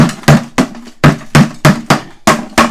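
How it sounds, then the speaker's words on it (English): Old 5-gallon drywall bucket being tapped to knock dried mud loose, a run of about nine sharp, hollow knocks at a steady quick rhythm, loud and close. "we can go around and tap that and clean it out"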